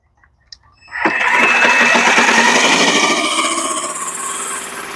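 A Yardforce powered reel mower's small engine sputters and catches after a brief pull, then settles into a steady, loud mechanical whir close by.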